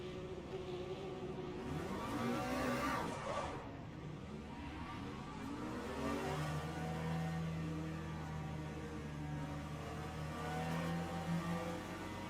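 Race car engines in Le Mans Ultimate at Sebring idle and drone together during a slow formation lap, with a steady low hum and gentle revving swells that persist throughout.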